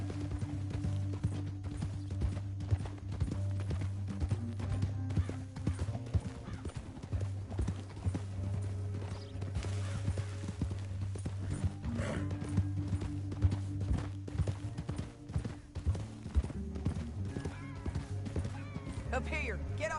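Horse hooves clip-clop at a ride across a Red Dead Redemption 2 canyon, steady rhythmic hoofbeats with occasional whinnies, over a low musical score and intermittent character dialogue.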